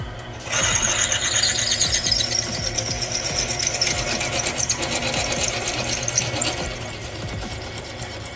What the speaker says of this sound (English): Got my big old 17/32 drill bit, just hug this hole out.